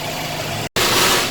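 An air compressor inflating a tire runs with a loud, steady, close mechanical roar and hiss, cutting out abruptly for a split second before resuming just as strongly.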